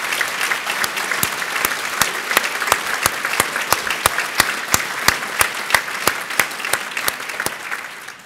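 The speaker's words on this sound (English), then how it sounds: "Maybe we could give them all a round of applause for their accomplishment" At an RCSI honorary degree ceremony, an audience applauds the graduates with sustained, steady clapping. It carries distinct sharp hand claps through a full hall and stays even for several seconds.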